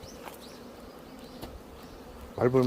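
Hornets buzzing around a beehive, an automatic feeder and a hornet trap at an apiary, a soft steady drone with brief passes coming close, then a louder, nearer buzz rising at the end.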